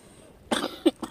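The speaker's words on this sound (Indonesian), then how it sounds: "Aduh, jadi batuk." Outdoors among wild santigi bonsai material, a person gives a short burst of close coughs, two or three quick hacks in about a second, with quiet surroundings.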